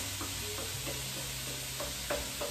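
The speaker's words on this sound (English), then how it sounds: "So now we're gonna saute these vegetables a little bit" Vegetables sautéing in a hot pan, a soft continuous sizzle with a few faint stirring scrapes, quiet and close, no talking.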